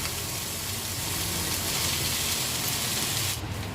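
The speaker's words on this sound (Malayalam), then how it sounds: "സവോള ഒരു 10 സെക്കൻഡ് ഒന്ന് ചൂടായി വരുമ്പോഴത്തേക്കും ചിക്കനും കൂടി ചേർത്ത് നന്നായിട്ടൊന്ന് 1 മിനിറ്റ് ഒന്ന് വഴറ്റിയെടുക്കാം" Onion and chicken pieces sautéing in a hot pan for chicken momo filling, giving a steady, close, broadband sizzle and hiss that holds evenly throughout before cutting off abruptly at the end.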